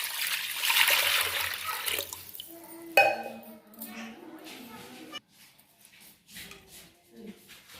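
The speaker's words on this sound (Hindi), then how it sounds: "तो अब हम इसमें 1 लीटर पानी डालेंगे" A litre of water gushes into a cooking pot for hot and sour soup, a loud, rushing pour that thins to splashes and trickles, with a voice talking over it.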